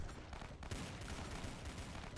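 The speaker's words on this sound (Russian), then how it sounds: "Да как у него такая стрельба, там охренеть, откуда он бомбит" Dense, sustained gunfire from the Dead Ahead: Zombie Warfare video game, rapid overlapping shots forming a continuous loud barrage with no pauses and no talk.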